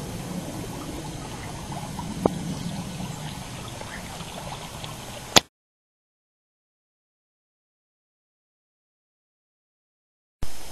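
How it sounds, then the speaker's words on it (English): Water rushes over rock in a stream, a steady broadband wash for about five seconds before cutting to silence, with a brief burst returning at the very end. "And down here, the water is rushing over the rock"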